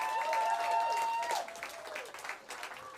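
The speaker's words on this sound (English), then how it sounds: "I want you guys to give them a clap" An audience at a small live music gig applauds for a family in the crowd, with steady clapping under a sustained tone and some voices mixed in.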